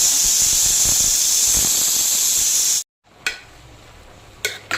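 A pressure cooker whistles while cooking Chennai-style pongal sambar, a loud steady high-pitched steam hiss that cuts off abruptly, followed by faint kitchen clatter.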